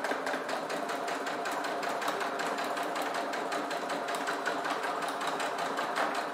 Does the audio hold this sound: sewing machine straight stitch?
yes